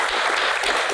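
Audience applause breaks out at a live Indonesian Q&A event on the art of acting, a dense, steady wash of many hands clapping together for a short moment.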